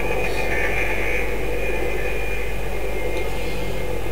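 Spaceship engines thrusting in Elite Dangerous, a steady, loud jet-like roar with a high whining tone over a continuous low hum, unbroken and constant throughout.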